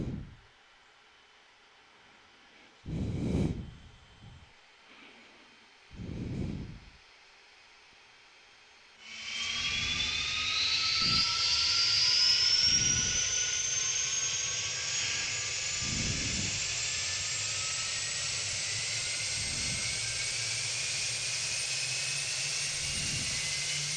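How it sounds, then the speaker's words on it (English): The right jet engine of a Cessna Citation C550 spooling up in a flight simulator, a rising whine and rushing roar that starts abruptly and holds steady, preceded by a few brief clicks and thumps from the cockpit. "We're going to go ahead and start the right. We see we've got light up. We're not light up. We've got spinning of the right engine."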